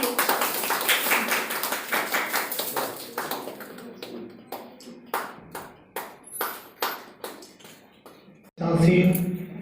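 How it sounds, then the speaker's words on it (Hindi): Clapping welcoming guests at the launch of a Hindi literary and cultural magazine: dense at first, then thinning into scattered, evenly spaced claps that fade out before a brief burst of noise at the end. "आप सबसे अनुरोध है तालियों से स्वागत करें।"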